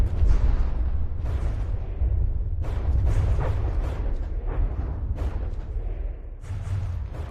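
Massive guided-missile swarm and booming main gun fire from a destroyer in From The Depths, a continuous roar of overlapping blasts and launches with repeated heavy bursts, no talking.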